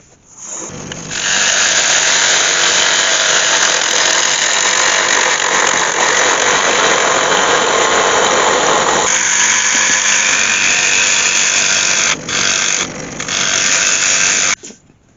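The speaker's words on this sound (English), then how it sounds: "I'll just take some clean-up cuts across the bottom and just take that nub off" A wood lathe whines loudly and steadily as a tool takes clean-up cuts across the bottom of a spinning wooden bowl, a continuous close scraping hiss that briefly drops out near the end.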